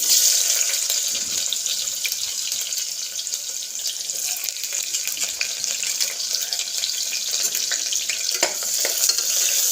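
Chopped onions sizzle in hot oil with cinnamon, black pepper and cloves for an Odia-style tadka, giving a steady dense hiss with occasional crackles and a stir near the end.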